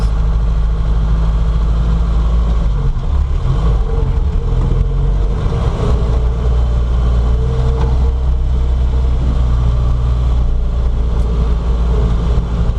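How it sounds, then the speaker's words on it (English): A Daihatsu 4WD with a four-cylinder diesel engine runs steadily and loudly up close, holding a constant low rumble for the whole stretch with no voices. "4-cylinder diesel."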